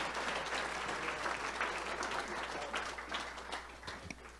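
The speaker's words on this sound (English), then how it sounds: "So let's give them a round of applause" Audience applause fills an annual sustainability awards celebration in San Mateo County, a steady wash of many hands clapping at once, fairly loud and sustained without pause.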